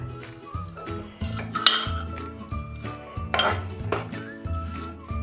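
Amla mixture stir-fried in a pan, a spatula clinking and scraping against the metal in a few sharp bursts beneath steady background music.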